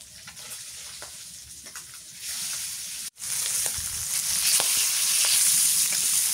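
Fish fries in a pan with steady close sizzling and popping that swells louder midway, a brief dip where it cuts out, then stronger continuous frying without talk.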